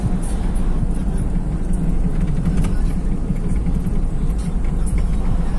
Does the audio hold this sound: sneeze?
no